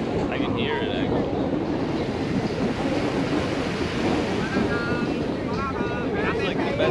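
Ocean surf washes continuously against a shore, a steady broad hiss and rumble with wind on the microphone, while birds chirp faintly and voices murmur in the background.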